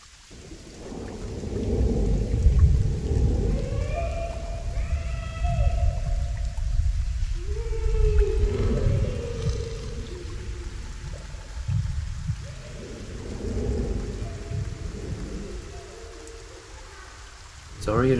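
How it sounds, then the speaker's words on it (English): Rain with rolling thunder in the watercolor-style video game Dordogne, a steady wash of rainfall under swelling low rumbles that rise and fall across the scene. "It's already a very dreary scene with the rain."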